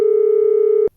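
Steady telephone busy tone held as one continuous unbroken beep for nearly a second, loud and close, then cut off abruptly, heard right after a call is hung up.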